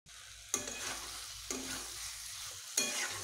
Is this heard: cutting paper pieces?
no